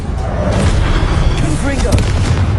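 An Incendio fire spell cast in Hogwarts Legacy lands with a dull booming thump amid a dense bed of battle sounds and voices.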